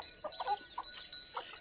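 Chickens cluck in short, scattered bursts close by, several birds calling in an irregular rhythm with no voices over them.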